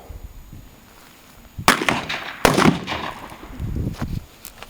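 Two sharp gunshots ring out about a second apart at an outdoor gun range at Cheney Lake, Kansas, each followed by a ragged echoing tail and rustling noise.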